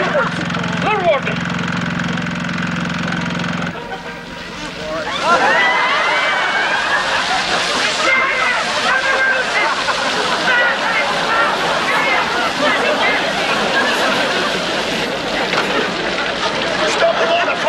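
Water pours and splashes steadily from a stage waterfall rig, a dense rushing wash that surges louder after a short pause early on, with voices and hubbub mixed in.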